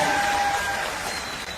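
Crowd at a BSP political rally clapping, a loud continuous burst of applause close by with no gaps, a faint tone running over it.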